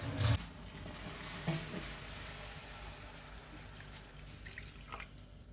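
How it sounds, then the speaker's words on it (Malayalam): Coconut milk pours and trickles faintly into a pan of elephant foot yam payasam, with quiet drips and soft splashes against low background hiss. "ഇനി നമുക്കിതിലേക്ക് തേങ്ങയുടെ രണ്ടാം പാല് ഒഴിക്കാം"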